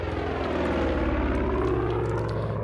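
Propeller aircraft from the video game Far Cry 5 droning steadily overhead, a loud continuous engine hum with no voices.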